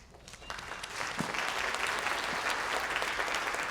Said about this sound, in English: let's give yourselves another round of applause